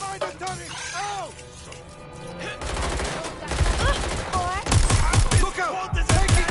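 Heavy gunfire in a PS5 video game: dense, loud volleys of rapid shots and cracking impacts that build after a quieter opening, with voices calling out over the battle.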